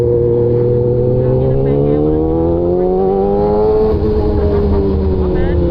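A jeep drives past on a road, its engine note climbing and then easing as it goes by, set against a constant rumble of surrounding traffic.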